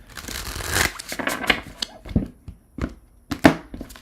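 Tarot cards are shuffled by hand in a few separate riffling and slapping bursts with quiet gaps between them, close and fairly soft.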